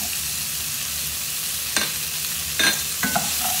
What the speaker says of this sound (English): And just allow them to cook for a few more minutes on a nice high heat